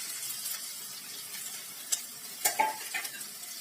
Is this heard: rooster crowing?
no